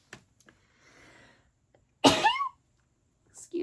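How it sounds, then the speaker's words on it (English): A single powerful human sneeze bursts out loud and close, preceded by a few faint clicks and a soft rustle, then followed by a brief trailing vocal sound. "That was a powerful sneeze."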